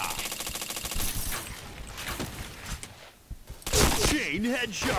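Rapid APC rifle fire in Point Blank, heard as a fast, dense rattle of shots at the start and then scattered bursts amid game effects, with a voice talking over parts of it.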